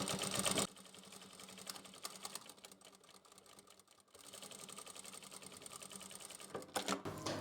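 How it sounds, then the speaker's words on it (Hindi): A sewing machine stitches a round collar in fast, even clattering bursts, close and clear, pausing briefly midway before running again. "अब यहाँ से हमें सिलाई लगा लेनी है। एक पैर का मार्जिन देते हुए हमें सिलाई लगानी है।"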